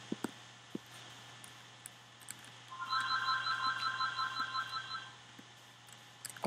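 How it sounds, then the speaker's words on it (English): A house phone rings during a Minecraft session: a run of rapid electronic trills about two seconds long, moderately clear over a low steady hum, with no talk. "your phone's ringing during your commentary"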